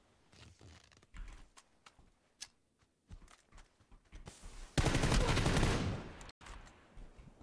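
A UMP submachine gun fires in an online shooter game: scattered single shots and short bursts, then a long, loud sustained volley of rapid fire that cuts off abruptly, with quieter clicks and thumps around it.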